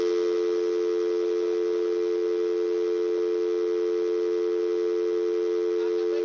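A telephone dial tone plays on a radio phone-in show after the caller is lost. It is a loud, steady, unbroken hum that holds alone for the whole stretch.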